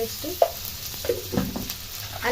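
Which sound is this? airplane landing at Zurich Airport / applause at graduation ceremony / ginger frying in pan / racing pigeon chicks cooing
ginger frying in pan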